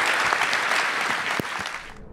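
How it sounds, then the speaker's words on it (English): Applause for podcast guests, a dense burst of clapping from a small audience close by that holds steady and then begins to thin out before cutting off. "Let's give them a big round of applause"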